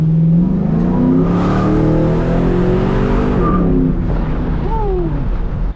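A 450 hp cammed truck roars through a hard acceleration pull, heard from inside the cab, its engine note climbing steadily and loud, with a brief dip and rise near the end as it shifts.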